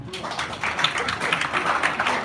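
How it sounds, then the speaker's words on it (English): Audience at a film club panel discussion clapping, a steady crackle of many hands, moderately loud and sustained, with little talk over it. "Please clap for me."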